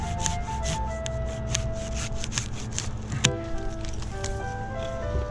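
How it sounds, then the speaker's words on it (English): A branch being cut with a handsaw outdoors during tree removal, a steady rapid rasping of saw strokes close by, with one sharp crack partway through. "I'm just gonna handsaw one of these out"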